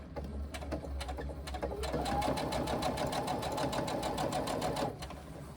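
A sewing machine stitches along the long edge of a reversible tote, starting with a few uneven stitches before settling into a loud, steady, rapid mechanical rattle that stops abruptly near the end.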